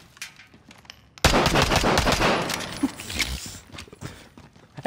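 Video game gunfire from a camping match at an airport control tower, a sudden burst of rapid machine-gun shots that continues for a couple of seconds, then thins into scattered shots and footsteps.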